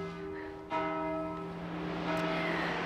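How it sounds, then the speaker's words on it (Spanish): Church bells ringing in a quiet village on Madeira, rich sustained tones with a fresh strike partway through, heard at moderate distance outdoors. "Mira, y la iglesia, perfecto el tiempo de las campanadas."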